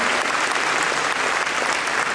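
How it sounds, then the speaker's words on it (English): A rally crowd in Fort Wayne, Indiana, at Michelle Obama's campaign speech, applauds for attorney general candidate Linda Pence: dense, steady, loud clapping that fills the whole stretch without a break. "I want to give her a round of applause"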